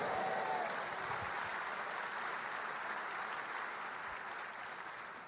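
A church congregation at a prophetic conference applauds in praise, a broad, continuous wash of clapping from many hands, fairly distant and soft, tapering slightly toward the end.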